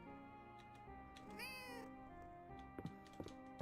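A cat in the video game Fields of Mistria gives a single short meow when petted, set against soft game music and followed by a few light clicks.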